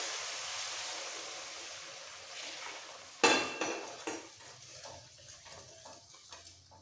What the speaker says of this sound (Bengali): এরপর দিয়ে দেবো গরম জল, পুরো মশলাটা কুক হয়ে যাবে